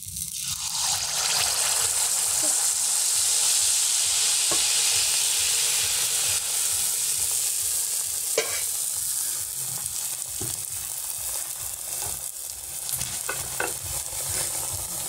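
Oil pitha cakes made from raw hand-pounded flour fry in hot oil with a loud, continuous bubbling sizzle, up close, marked by occasional sharp crackles and pops and no talking.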